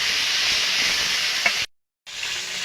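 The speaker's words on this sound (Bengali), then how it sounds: "বাকি মাছগুলো ভেজে নেব" Fish frying in hot oil in a wok gives a steady, close, hissing sizzle that cuts out briefly into silence, then resumes, with no talking.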